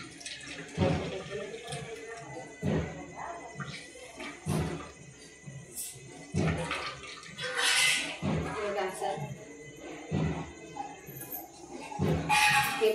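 Water splashes and pours out in repeated bursts as it is drained off while Maggi noodles are being made. The gushes come close and fairly loud, separated by short pauses.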